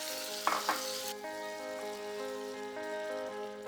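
Tomato hits a hot pan crusted with dark browned onion, letting out a sharp burst of loud sizzling that settles into a steady frying hiss over a low constant hum.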